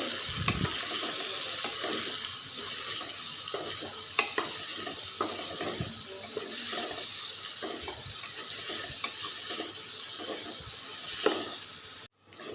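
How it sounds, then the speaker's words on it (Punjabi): Finely chopped onion fries in a pan with already-browned garlic while a Punjabi-style aloo chana dish is cooked, giving a continuous sizzle broken by occasional stirring clinks and scrapes, with no talking. "ਹੁਣ ਆਪਾਂ ਪਾਵਾਂਗੇ ਬਿਲਕੁਲ ਬਰੀਕ ਕੱਟਿਆ ਹੋਇਆ ਪਿਆਜ਼ ਇਹਨੂੰ ਵੀ ਆਪਾਂ ਚੰਗੀ ਤਰ੍ਹਾਂ ਨਾਲ ਭੁੰਨ ਲਾਂਗੇ"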